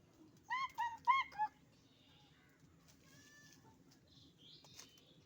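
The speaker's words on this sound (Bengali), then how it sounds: "অনেকদিন পর কুকিলের ডাক শুনলাম।" A cuckoo calls a quick run of four clear, ringing notes, then fainter bird chirps follow over quiet background noise.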